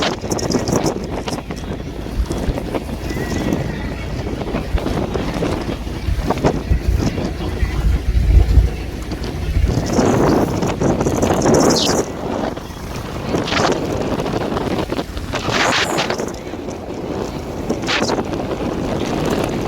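Strong wind buffeting across the deck of the Ghogha-Hajira ro-ro ferry at sea, a constant roaring gusty rush with engine and water noise beneath and voices talking intermittently.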